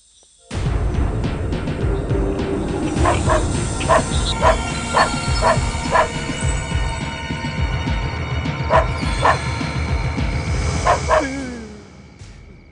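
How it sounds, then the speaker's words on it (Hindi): A dog barks repeatedly in a quick series of sharp yaps, fairly close and loud, over a busy background of noise. "ये कुत्ता क्यों भौंक रहा है"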